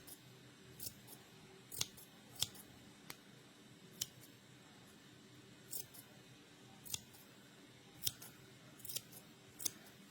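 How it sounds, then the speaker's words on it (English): Scissors snip around a yarn pom pom, with about a dozen sharp, separate cuts spaced irregularly over a quiet background and no talking. "cut all the really long edges that you don't need, that come out to be a little bit longer than the others"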